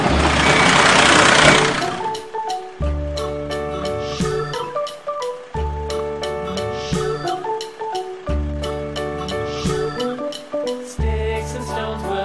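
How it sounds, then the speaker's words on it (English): Cartoon trucks and cars stuck in a traffic jam: a loud burst of engine noise opens, then repeated horn-like honks and beeping tones pulse steadily in a rhythmic pattern, with no talk. "Sounds like a traffic jam."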